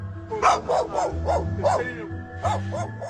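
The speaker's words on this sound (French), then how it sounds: "Le chien de mon oncle s'énervait pendant qu'on observait ce qui se passait dans le ciel. Il n'arrêtait pas d'aboyer." A dog barks in a quick series of sharp, loud yaps close by, pausing briefly before a final pair of barks.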